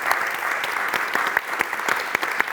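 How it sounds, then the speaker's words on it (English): Audience at a Bradford Literature Festival panel applauds, a brisk, even patter of many hands with a few louder individual claps standing out over about two and a half seconds. "Round of applause for Pamela."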